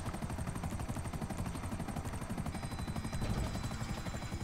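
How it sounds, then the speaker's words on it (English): Helicopter crashing in GTA 5 Online, a loud rapid rotor chop pulsing evenly throughout with rising harsh engine whine near the end. "Helicopter's dying."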